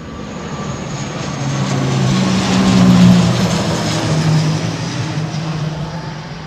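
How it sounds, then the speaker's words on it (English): An airliner comes in to land at a windy London Heathrow Airport, its engines a broad roaring rumble that swells to a peak midway and then eases off, heard from nearby with steady wind noise and no talk. "Nosy angle of attack for landing, man. Late flare on this."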